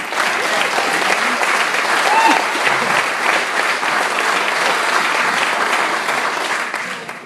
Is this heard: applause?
yes